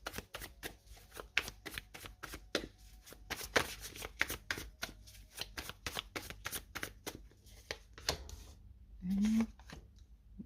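Light Seers tarot cards are shuffled by hand in a quiet room, a rapid train of crisp papery riffles and taps that carries on throughout with a short soft thump near the end.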